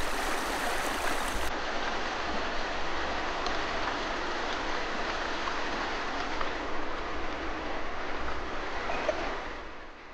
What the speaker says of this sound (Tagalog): maaaring mahulog at matangay nang rumaragas ang ilog ng Daraitan.